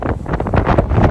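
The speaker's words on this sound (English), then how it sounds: "It's a little windy." Strong outdoor wind in an ice storm buffets the microphone with a loud, gusty, rumbling roar that rises and falls over about a second. No voices are heard.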